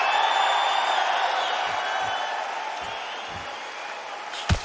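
A capacity crowd murmurs and roars steadily in the Undisputed boxing video game arena, a broad continuous wash of noise with a few soft thuds and a sharp slam near the end.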